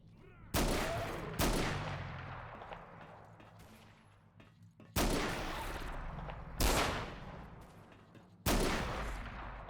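Gunfire in the video game Fate of the Zone: several loud, sharp bursts of shots crack out at irregular intervals, each dying into a rumbling tail with a low background hum between volleys.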